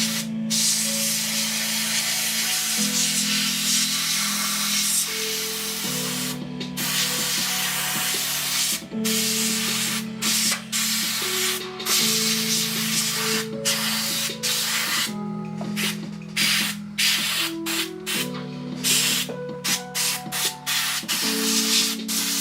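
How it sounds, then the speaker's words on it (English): An airbrush sprays paint onto a wide Lord of the Rings scenery base on a desk, giving a continuous close hiss in short bursts with brief pauses, over steady background music. "Sucks I gotta paint this on the desk. I can't get it in the airbrush booth."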